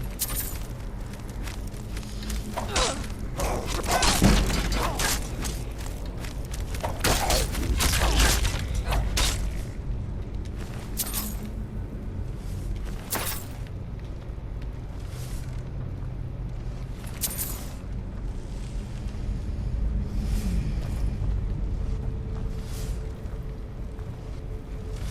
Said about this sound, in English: What you hear are swinging blades.